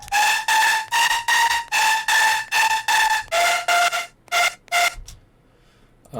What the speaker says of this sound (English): Then I've got my leads on top, which are doing like the lead melody.